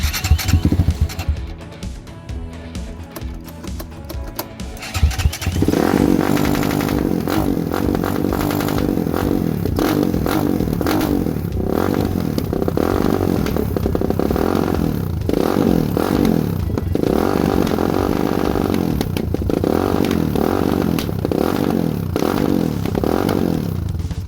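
A Lifan ZS175FMN engine swapped into a KP Mini 300 idles with the fuel shut off to empty the carburetor: quiet clattering at first, then a loud, steady, close mechanical run with rattles and slight revving.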